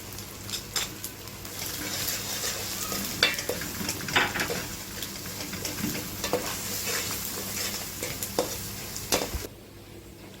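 Onion and vegetables fry with salt, cumin, spices and bay leaves for fish rice, a close crackling sizzle punctuated by frequent spoon scrapes and stirring knocks, without speech.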